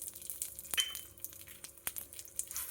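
Lentils, chana dal, toor dal, urad dal and horse gram, frying in hot oil for ridge gourd chutney, giving a faint sizzle punctuated by sharp clinks and ticks of stirring.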